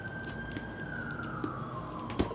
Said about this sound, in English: Here's an ambulance.